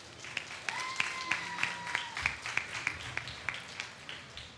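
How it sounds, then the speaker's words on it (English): Faint, sparse clapping from a few people at a steady pace at a cosplay debate, set against a quiet room with a soft hum. "Give him a round of applause"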